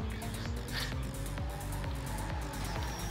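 A car drifts in the video game Dreams with a steady, rhythmic engine drone and some tire noise running throughout, loud and close, with no one talking over it.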